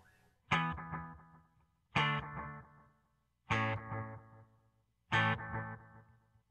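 Electric guitar through a Maxon delay pedal at the 5/8 setting: four separate strummed chords, each ringing out with trailing repeats that fade before the next strike, moderately quiet and with no talking.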